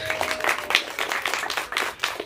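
An audience gives a short round of clapping applause at a university storytelling showcase, a steady patter of many hands close by.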